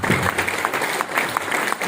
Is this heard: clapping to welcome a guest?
yes